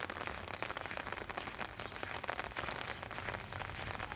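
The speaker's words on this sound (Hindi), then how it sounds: "पानी की बूंदें टप टप गिर रही है" Steady pattering of water drops falling onto a surface, a dense, continuous dripping like light rain, close and fairly loud throughout with no voices.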